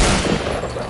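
Dense, continuous burst of game gunfire in a Fortnite squad match, loud and steady across the whole second with no clear gaps between shots.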